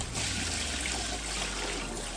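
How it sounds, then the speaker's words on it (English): Cold tap water runs steadily over freshly boiled noodles being rinsed in a kitchen, a continuous close trickle and splash with no talking. "rinse the noodles well with running cold water"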